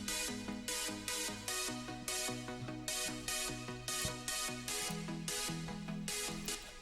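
Layered synth pluck and supersaw parts from an electronic track playing a repeating riff, with rhythmic bright bursts over steady tonal chords, evenly paced and alone without talk.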